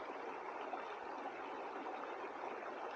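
A mountain stream flows with a steady, close, even rush of water that carries on without pause.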